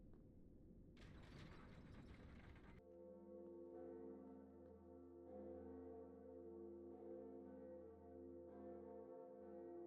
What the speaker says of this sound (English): First, we're ringing the second bell of awakening.